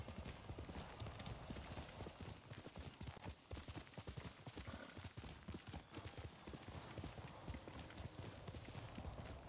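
A white horse's hooves clip-clop steadily in the video game Ghost of Tsushima, a fast continuous rhythm of close hoof strikes over a dense game soundscape.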